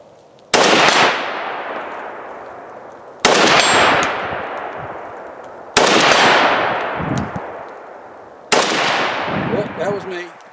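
Four loud rifle shots from a Palmetto State Armory GF3 AK, fired offhand with iron sights at a 100-yard range, each a sharp crack with a long ringing outdoor echo, spaced a few seconds apart.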